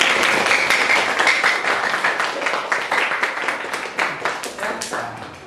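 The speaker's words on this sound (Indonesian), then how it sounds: "terima kasih tepuk tangan" A classroom of students claps together after an answer in a religious education lesson, a brisk, fairly close round of applause that holds steady throughout with a slight drop at the end.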